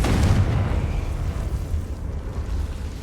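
A Confringo fire spell explodes in Hogwarts Legacy on PS5 as a loud, close, deep boom that rumbles and fades over a few seconds, with no talk.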